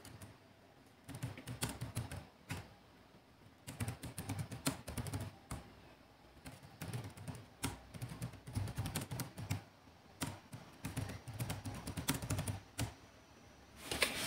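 Quiet clacking of a computer keyboard while someone types in Microsoft Word, irregular bursts of rapid keystrokes with short pauses between them, and no voices.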